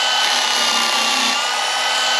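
A Craftsman V20 cordless brushed band file sands wood at speed 2, a loud, constant high whir with a grinding abrasive hiss throughout the short burst.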